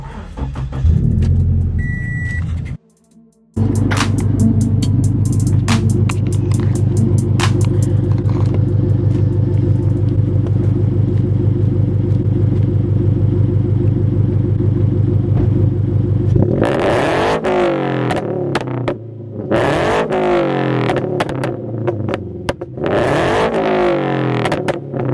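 A Scion FR-S with a backfire tune cranks, catches and settles into a steady loud idle, with a brief dropout near the start. Later, sharp revs and crackling pops break in over the idle.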